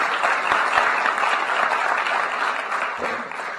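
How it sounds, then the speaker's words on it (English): A crowd at an Eisenhower Fellowships event in Kigali applauds continuously, dense clapping holding at an even level for a few seconds. "a round of applause to all the fellows that could make it here."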